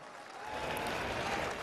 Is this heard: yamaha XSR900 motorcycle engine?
no